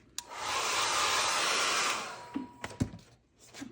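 A hair dryer blows steadily on a layer of paint in an abstract mixed-media piece, running loud and close for about two seconds before switching off, followed by a few small knocks and handling sounds.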